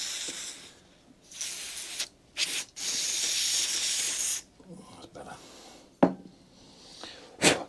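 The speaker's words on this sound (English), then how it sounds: "Carb cleaner, a bit more spray to it." Carb cleaner sprayed from an aerosol can onto the metal gauze part of a 1954 Atco Villiers Midget kick-start lawn mower, several close, loud hissing bursts of varying length, separated by short gaps and light handling clatter.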